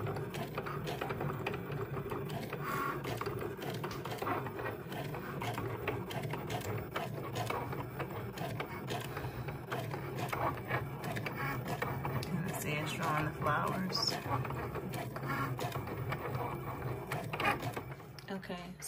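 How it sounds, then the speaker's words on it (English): A craft cutting machine whirs and clatters steadily for the whole stretch, a busy mechanical hum with rapid ticking and scraping, close and fairly loud. "It's not a printer, it's a cutter."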